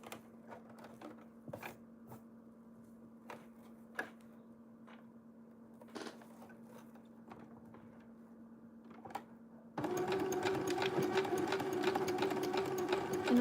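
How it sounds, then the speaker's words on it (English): Sewing machine stitching fabric on a quarter-inch seam allowance: a quiet hum broken by scattered clicks and taps, then a loud steady motor whir bursting in near the end and holding close. "So I'm going to sew it down."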